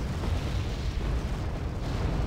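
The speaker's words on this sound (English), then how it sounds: "More cluster bombs being dropped" Cluster bombs going off in the war strategy game Wargame: AirLand Battle, a dense, continuous rolling rumble of overlapping blasts, heavy in the low end and without any pause.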